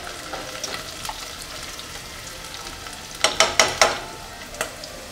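Onion frying in a pan for Persian shami, a steady soft sizzle throughout with a short cluster of sharper crackles and pops toward the end.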